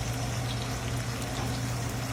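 Pampano fish simmering in a covered pot, giving a steady, even low bubbling hiss with a constant hum underneath that holds throughout without pauses.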